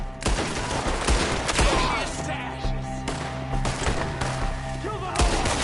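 Dense video game gunfire from a shootout on PS4, with repeated bursts and booming shots layered over a game soundtrack, and shouting voices mixed underneath throughout.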